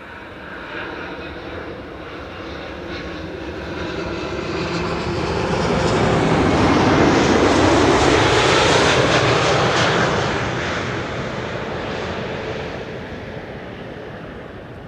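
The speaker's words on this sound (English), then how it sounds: "watch the landing of KLM flight 604" A KLM Boeing 777-200 jetliner arriving from LAX lands on runway 06, the Kaagbaan, at Schiphol. The engine roar swells loudly as it passes close by, then fades away again.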